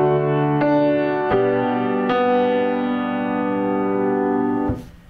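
A piano plays measure 2 of a song: a few struck chords and notes at a slow pace, sustained and ringing loudly, with no talking, before the sound cuts off.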